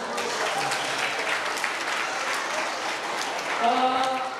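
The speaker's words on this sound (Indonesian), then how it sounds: "boleh kasih tepuk tangan yang meriah buat kita semua." A crowd claps enthusiastically in a sustained round of applause, with a voice rising briefly near the end.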